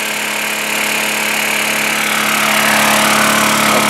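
A Honda EU2000i inverter generator engine drones loudly and steadily at close range from its exhaust side, a constant buzzing hum with no pauses and no voices.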